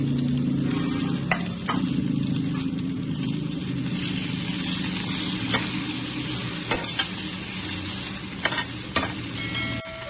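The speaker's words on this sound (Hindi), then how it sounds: "अब ये जो सब्ज़ मिर्च हमने काट के रखी थी ये शामिल कर देंगे" Green chillies sizzle and fry in a pan with browned garlic for a radish chutney, with steady crackling and periodic stirring scrapes throughout, close and continuous with no talk.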